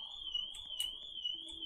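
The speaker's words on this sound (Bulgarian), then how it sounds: "Оу, някаква аларма се включи." In a video game, an electronic alarm sounds a steady, piercing high tone that runs unbroken through the short clip, with faint game noises underneath and nobody talking.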